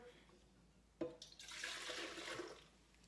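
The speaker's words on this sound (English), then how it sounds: "I'm going to pour a little bit more water in here." Water pours steadily into a container for a couple of seconds after a sharp knock, a close splashing rush that fades out.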